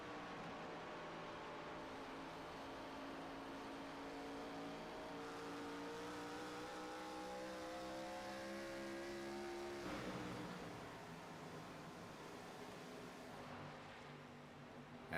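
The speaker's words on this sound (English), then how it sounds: "Zach, one of the faster cars right now on track." Race cars roar around the track during an ARCA Series race, the North Carolina 200, with a steady layered engine drone and rising, shifting pitches as several cars pass, swelling around a close pass before settling back into continuous distant racing noise.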